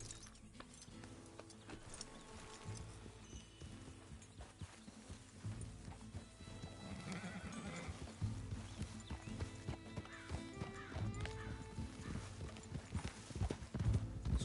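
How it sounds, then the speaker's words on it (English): Steady clip-clop of horse hooves walking in the video game Red Dead Redemption 2, with occasional whinnies, over a busy layered background of music and ambient noise; continuous and moderately loud. "There he is. That's a healthy-looking horse."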